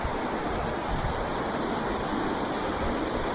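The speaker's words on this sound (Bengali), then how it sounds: "একটু ঠান্ডা হাওয়া আছে।" Cold wind roars steadily across a microphone on a mountain trek toward Bali Pass, a dense, unbroken whoosh filling the scene at close range with no pauses.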